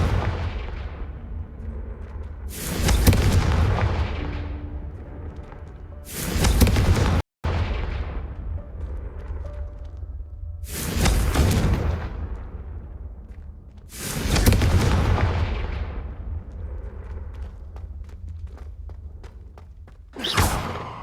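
Repeated Confringo blasting spells in the game Hogwarts Legacy explode one after another, six booming bursts at irregular intervals, each a loud crackling blast decaying into rumble before the next.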